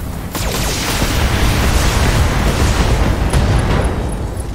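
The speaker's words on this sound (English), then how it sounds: "Ammo explosion." Mech ammunition cooking off in the BattleTech video game: a loud, sustained roaring explosion with crackling bursts that fills the whole stretch, with no speech over it.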